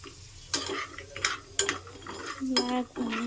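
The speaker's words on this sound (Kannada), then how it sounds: "ಬ್ಲ್ಯಾಕ್ ಫ್ರೈ ಮಾಡ್ಕೊಳ್ಳಿ ಮೀಡಿಯಮ್ ಫ್ಲೇಮಲ್ಲಿ. ಚೆನ್ನಾಗಿ ಫ್ರೈ ಮಾಡ್ಕೊಳ್ಳಿ." Dry fruits fry over a medium flame while a metal spoon scrapes and clinks against the pan in several uneven strokes, set against a faint sizzle.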